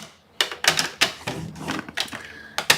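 Card stock being scored at 5.5 inches on its 11-inch side for a basic card base, heard as a series of sharp, close clicks and taps in an uneven rhythm.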